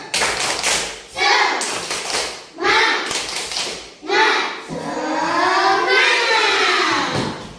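Schoolchildren in a classroom perform the tepuk semangat clapping chant, loud rhythmic bursts of claps alternating with shouted chanting voices, close and lively, with a teacher's voice leading.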